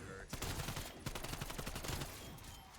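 Rapid bursts of automatic gunfire in Call of Duty's Die Maschine zombies mode, loud, dense rattling shots in quick succession, with game effects mixed in.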